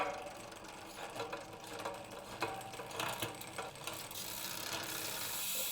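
A Wheeltop EDX TX drivetrain on a Cervelo Soloist road bike gives a continuous scratchy mechanical rattle and ticking as the chain runs. It is steady and fairly quiet throughout, with no voices.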